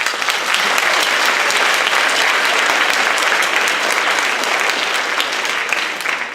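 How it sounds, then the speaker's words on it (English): Steady, loud applause from an audience at a high school band senior awards night, honoring the band and orchestra booster board, a dense even wash of many hands clapping that holds throughout before easing slightly at the end. "So let's please have a round of applause for them."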